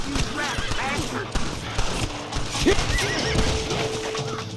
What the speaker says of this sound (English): Damn, they gunned down their own horse.